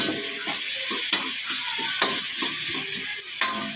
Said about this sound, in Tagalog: Ikakaramize natin yung onion